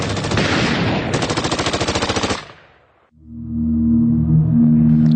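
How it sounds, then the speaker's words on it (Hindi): Loud, close bursts of rapid automatic gunfire hammer out for a couple of seconds, then cut off, leaving a low, steady mechanical drone. "मशीन गन से गोलियां दागना शुरू कर दिया।"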